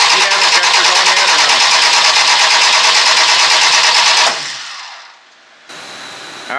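A freshly installed car engine, prepared for a race build, cranks over with a loud, steady starter whir and mechanical clatter close by, then cuts out briefly before a quieter hum resumes.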